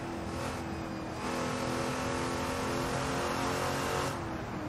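Lola T70 Mark II race car with a Chevrolet V8, a 1967 Can-Am machine in the Assetto Corsa racing game, roars at steady high revs, loud and continuous with slight changes in pitch as it accelerates through gears.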